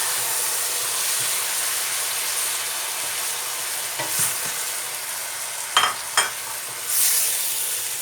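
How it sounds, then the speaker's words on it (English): Fresh tomatoes sizzle in a frying pan while being stirred, a steady frying hiss throughout with a few sharper scraping clicks of the spoon toward the end and no voices. "So I'm just going to mix this in for about another minute or so until the tomatoes are like melted down a bit."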